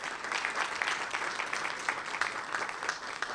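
A room audience at a civic club talk applauds, a sustained burst of many hands clapping at moderate distance, steady throughout with no voices over it.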